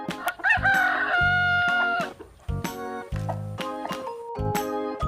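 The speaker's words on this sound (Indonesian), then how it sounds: "ayam jago" A rooster crows repeatedly in loud, close, drawn-out cock-a-doodle-doo calls, several in a row with short gaps between them, plus a few sharp clucking accents.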